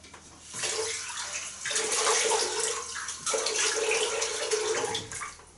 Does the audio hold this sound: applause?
no